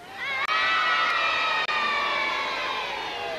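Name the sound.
TV studio crowd cheering for the Norwich Joker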